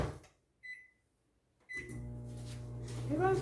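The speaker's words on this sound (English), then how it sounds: "Put in the microwave for 30 seconds or more." A kitchen microwave oven is set with two short beeps, then starts with a steady low hum and whir that continues to the end, close and without talking.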